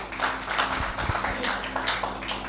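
A congregation applauds during a church talk, giving a sustained patter of many hands clapping at moderate volume for a couple of seconds, with no voices over it.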